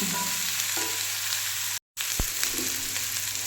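Steady, close sizzling of yellow pumpkin frying in hot oil, with a brief dropout partway through and a soft clink of utensils.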